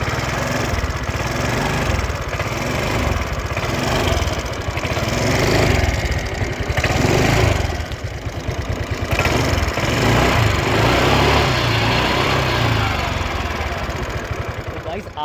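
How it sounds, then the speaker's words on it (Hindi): An Aprilia Storm 125cc scooter engine runs steadily and close by, with a continuous low rumble and rattle that holds throughout at a constant level. "तो मैं ना आपको भाई इसका इंजन साउंड सुनाने की कोशिश करता हूँ एक बार"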